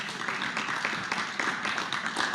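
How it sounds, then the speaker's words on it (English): An audience at a gathering honoring members of the Knesset breaks into sustained applause, a dense, continuous patter of many hands clapping at moderate distance without talk. "Please, a round of applause for a great friend,"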